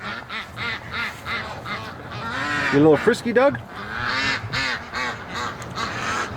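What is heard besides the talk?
ducks quacking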